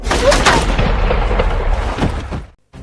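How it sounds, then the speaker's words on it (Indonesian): Gunshots in a film scene, a short burst of sharp cracks and booms that cut off abruptly into silence, loud and close. "Semua anak buah Fasa tewas ditembak oleh anak buah Titov"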